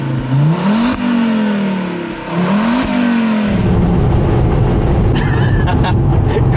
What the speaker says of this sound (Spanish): un motor de 300 caballos turboalimentado bajo el capó